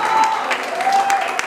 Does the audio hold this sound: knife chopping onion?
no